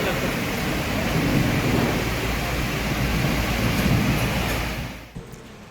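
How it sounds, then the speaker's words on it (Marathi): Heavy unseasonal downpour driven by stormy wind in Vaibhavwadi, a loud dense roar of rain and gusts that holds steady for about five seconds, then drops away abruptly. "वादळी वाऱ्यासह धुवाधार पाऊस झाला।"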